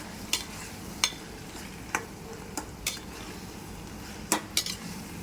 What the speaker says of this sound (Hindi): अब इसको हम सारी पाव भाजी को इसके अंदर मसाले के अंदर मिक्स कर लेंगे।